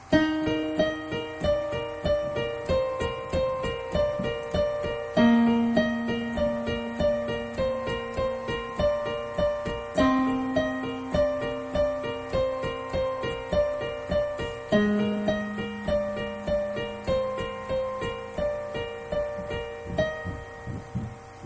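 A piano riff from a song played at a brisk pace, with repeated notes in an even pulse that loops for about twenty seconds and the bass shifting every few bars.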